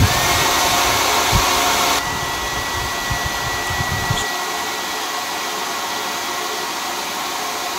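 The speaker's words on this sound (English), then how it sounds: "Hair dryer को use कीजिए और इस जुगाड़ का जादू देखिए।" A hair dryer in a hotel room blows with a loud continuous whoosh, dropping slightly in level partway through as if moved or switched setting, running steadily throughout.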